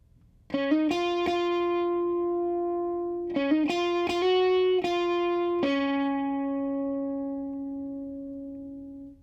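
An electric guitar plays a short melodic riff of quick plucked notes in two phrases, ending on a long ringing note that fades out.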